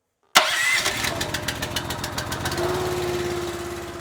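A small gasoline engine on firewood splitting equipment coughs into life after a sharp onset, then settles into a loud, steady running chug close by.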